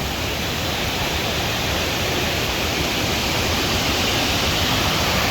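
A waterfall in the Brecon Beacons roars in a loud, steady, unbroken rush of falling water, close by and with no other sounds.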